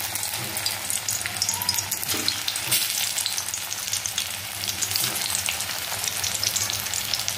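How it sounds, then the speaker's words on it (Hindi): Poha cutlets fry in hot mustard oil in a kadai over medium heat, a steady dense sizzle running close and loud throughout with a few brief spatter bursts, no voices. "तो मैंने कटलेट बना लिया, अब इसे फ्राई कर लेंगे"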